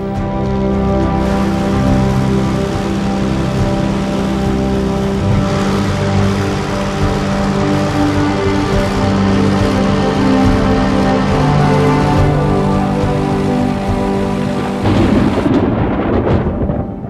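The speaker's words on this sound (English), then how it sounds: "The mighty thunderclouds send their load down as rain." Steady, loud wash of heavy rain in a thunderstorm with deep rumbling underneath, continuous and dense for the whole stretch before easing near the end.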